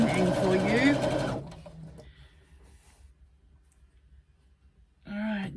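A sewing machine stitches down the side seam of a swim bag, its motor whirring steadily for a few seconds after a brief spoken remark, before talk resumes at the end.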